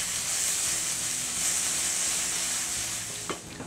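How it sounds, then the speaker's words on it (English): Cherry tomatoes sauté in a hot pan for seared tomato bruschetta, a steady, close sizzle with a bright hissing texture that holds throughout and eases slightly near the end, where a few faint clinks of stirring come through. "we're gonna add our cherry tomatoes, and we're gonna saute until wilted, about 1 minute"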